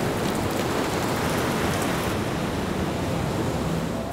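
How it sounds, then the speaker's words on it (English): Heavy rain falls over the open sea with the Ghats beyond, a dense, steady roar of broadband hiss that holds even and loud throughout, with no voices. "The sea gets the rains first this time"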